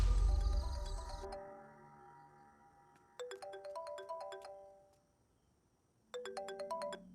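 A mobile phone ringtone plays a melodic electronic tune in three separate bursts with pauses between them, and nobody answers the call. There is no talking.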